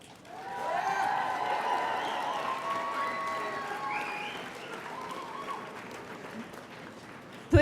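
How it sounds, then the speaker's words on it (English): Graduates applaud at a Fort Lewis College spring commencement ceremony, a broad crowd clapping that swells quickly, holds in a large hall, then thins out, with a voice briefly heard and a sharp knock at the end. "Now it is your turn, graduates, to applaud them."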